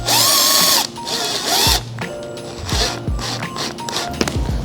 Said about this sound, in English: And then you want to screw it in until the screw goes a bit beneath the surface of the foam.